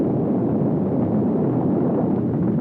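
A burning oil well fire roars as fluid breaks through to the wellhead, a loud, dense, continuous rumble with no clear break or pause.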